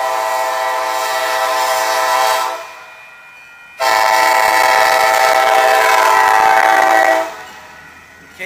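A KCS freight train rolls past with a long, loud horn blast, which breaks off briefly and then sounds again over the steady rumble of the passing cars.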